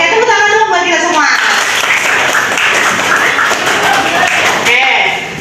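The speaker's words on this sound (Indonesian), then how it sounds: "coba tepuk tangan dulu buat kita semua" A group, including children at a gathering, claps hands loudly and steadily after a speaking voice at the start, with brief voices heard near the end.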